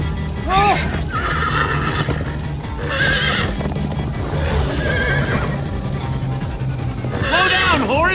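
A horse in the Minecraft Story Mode video game whinnies loudly several times over steady clip-clop hooves of a gallop, and a voice speaks briefly along with the game sounds.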